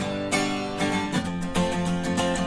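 A guitar track panned to the left in a song mix plays a sequence of strummed and picked chords with sharp attacks, steady and full throughout with no voices present.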